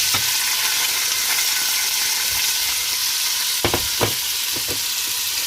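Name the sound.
onions and peppers sizzling in oil on stove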